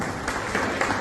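Brief, dense clapping from an audience at the opening of a cricket tournament player auction in Vizag, steady and close throughout.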